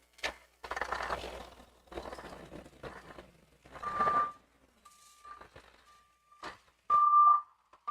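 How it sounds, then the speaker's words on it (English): A truck gives a few thin tonal warning beeps, interspersed with scattered clanks and mechanical knocks; the beeps are spaced apart, with the last one louder and longer. "Next person, listen to the beep."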